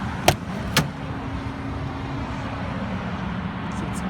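A 2017 Freightliner Columbia day cab glider with a Detroit diesel turns over and settles into a steady low idle, with two sharp clicks or clunks near the start and a constant rumbling hum after.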